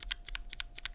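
A few quick keystrokes on lubed Velocifire KK Lightwave linear switches land as muted, close clacks in a brief, even burst.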